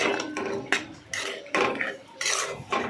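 Potato and pointed gourd curry being turned over in a pan with a little water, with repeated close scraping and clinking strokes of a spoon against the metal in an uneven rhythm, with no talk.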